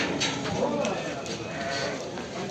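Sheep, including Merino sheep and lambs, bleat repeatedly amid a busy livestock market crowd in Kadirli, with people talking nearby over the steady noise.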